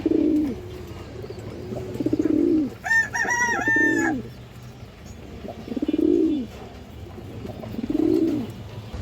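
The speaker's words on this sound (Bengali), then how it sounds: "এই দেখেন নরের বাজুগুলা খুব সুন্দর একটা কবুতর" Pigeons coo in a low, rhythmic series of throaty calls repeating near and clearly, with a brief higher-pitched bird call breaking in midway.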